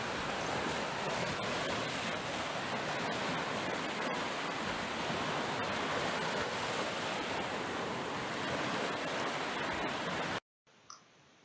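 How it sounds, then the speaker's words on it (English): Ocean waves wash in a continuous, dense roar of surf that holds steady for about ten seconds before cutting off abruptly into near silence. "Just listen to the sound of these ocean waves."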